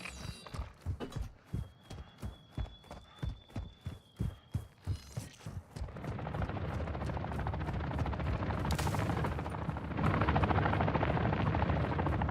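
Helicopter in Warzone 2 DMZ, a steady loud rotor thump beating in fast rhythm for the first half, then a dense roaring engine wash swelling louder toward the end, with no talk.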